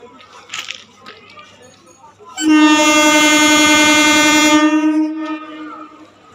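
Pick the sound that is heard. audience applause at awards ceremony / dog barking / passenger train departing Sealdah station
passenger train departing Sealdah station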